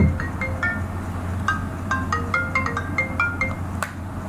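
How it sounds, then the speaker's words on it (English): A mobile phone plays a melodic ringtone for an incoming call, a string of bright chiming notes over a steady low hum in a quiet room. "Please excuse me, I'm getting a phone call."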